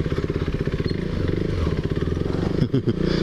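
A KTM Duke 390 single-cylinder motorcycle rides slowly in first gear over rough terrain, its engine thumping steadily up close, with brief clattering from the bike near the end.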